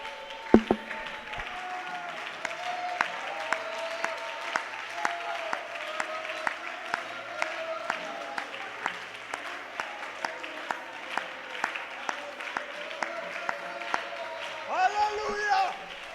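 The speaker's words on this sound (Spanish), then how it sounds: "yo quiero aplaudir a la presencia del Señor" Church congregation clapping steadily during a sermon, a soft continuous patter of many hands with regular louder beats running throughout, under a voice speaking and singing over it.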